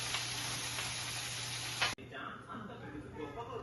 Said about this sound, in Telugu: ఇప్పుడు మనము ఈ పర్వాలు వేగిందండి